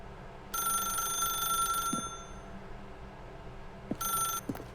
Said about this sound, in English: Can we not pick up the phone? That's her, Stanley